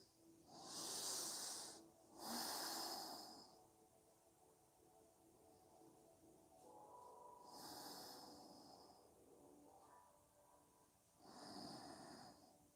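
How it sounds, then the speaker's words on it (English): Breathing through the nose during a yoga session, four rushing breaths, two close together at the start and two spaced later, each a soft airy hiss rising and falling with quiet gaps, no talk. "Breathing through your nose."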